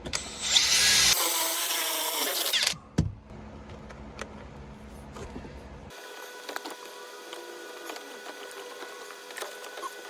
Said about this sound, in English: So I'm gonna drill right about there.